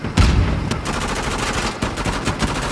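Dense gunfire and a grenade blast fill a multiplayer firefight in Uncharted: The Lost Legacy, a heavy low boom up front followed by rapid, loud, continuous shots and impacts.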